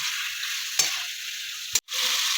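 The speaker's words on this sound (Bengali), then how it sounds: "পাঁচটা মিনিট ধরে কষে নেব" A dish sautéing and sizzling in a pan while it is stirred, with a steady close hiss and two brief scraping stirs, one ending in a short dropout. No one speaks.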